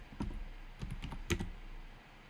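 Keys tapped on a computer keyboard while entering a spreadsheet row with date, type, category and amount, in a few short clustered bursts of clicks at close range, fairly quiet, with no talk.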